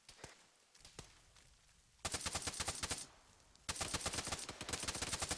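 An autocannon firing during a military video game, heard as fast, rapid bursts: faint scattered shots at first, then two loud sustained strings of fire with a short lull between them.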